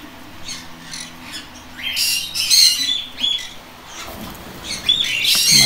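Birds at a breeding farm with nest boxes give sharp, close squawks mixed with quick chirps and tweets, rising and falling in irregular clusters.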